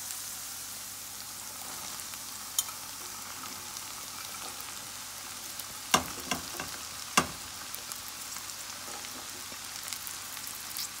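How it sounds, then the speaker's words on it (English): Okra frying in tomato paste in a pan gives a steady quiet sizzle, broken by a few sharp clacks of stirring near the middle, with no talking. "So now I'm gonna go in with our okra."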